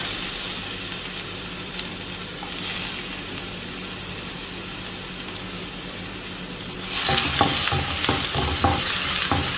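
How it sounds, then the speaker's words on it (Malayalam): Crushed garlic and ginger drop into hot oil with dried red chillies for a Kerala-style chicken curry. A steady frying hiss with stirring swells into a louder, crackling sizzle partway through. "അതിനുശേഷം വെളുത്തുള്ളി ഇഞ്ചിയും കൂടി ചതച്ചത് ഇട്ട് കൊടുക്കാം."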